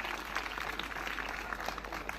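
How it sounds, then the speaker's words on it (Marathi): An audience claps to welcome students arriving at a school event in Kothale, a dense, steady patter of many hands at moderate distance, with no voices over it. "त्या विद्यार्थ्यांचं एकदा टाळ्या वाजवून स्वागत करा"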